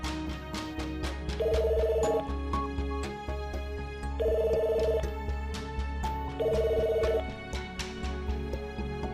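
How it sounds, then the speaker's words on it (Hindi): A telephone rings unanswered in three separate bursts of bright electronic trilling, each about a second long with short gaps between, over a busy music bed and with no talking. "सर बेल तो जा रही है लेकिन एनी फ़ोन नहीं पिक कर रही।"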